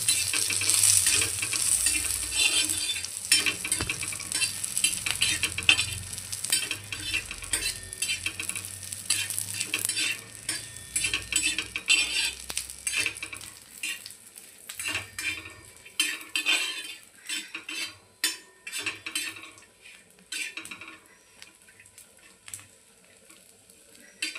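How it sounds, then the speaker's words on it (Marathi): Dried coconut is roasted in oil over a low flame to a golden colour for a black chicken masala. Steady sizzling runs under repeated scraping and stirring of a utensil against the pan, and the frying fades toward the end. "तेल टाकून आपण खोबरं छान असं गोल्डन कलरवर भाजून घेऊया."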